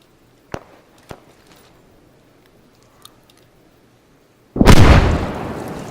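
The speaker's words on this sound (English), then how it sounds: "I'm gonna toss a nade in through here." Grenade blast in the first-person shooter Dissension: after a few sharp isolated clicks and a near-silent pause, a sudden loud booming explosion hits and then slowly rolls off.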